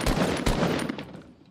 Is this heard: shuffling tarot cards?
no